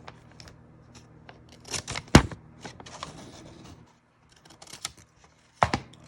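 Scissors snip a piece off tracing paper in a few sharp close cuts separated by quiet pauses, with light paper rustling and handling sounds between them and no speech.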